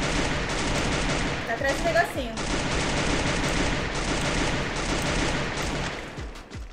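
Rapid bursts of gunfire from the Free Fire video game run through nearly the whole stretch, loud and dense, while players talk over it.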